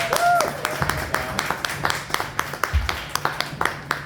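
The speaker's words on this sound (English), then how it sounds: "Come on, keep it going. Round of applause." A live comedy show audience claps for a comedian, a steady run of applause with evenly spaced, close claps while a voice talks over it at the start.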